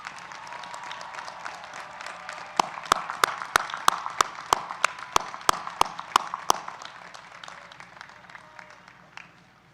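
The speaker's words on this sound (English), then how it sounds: "Let's give another round of applause." Audience at a university graduation ceremony breaks into a round of applause, a steady mass of clapping from a large crowd with a few sharp, loud claps standing out near the front before the ovation tapers off.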